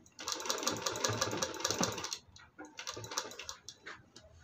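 A sewing machine stitches a baby's winter sock boot made from a reused handkerchief in a rapid, rattling run for about two seconds, then pauses and restarts in shorter, choppier bursts.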